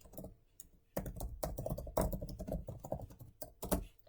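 Fingers tapping on a computer keyboard in quick irregular bursts of clicks, close and quiet, with a brief pause near the start before typing resumes.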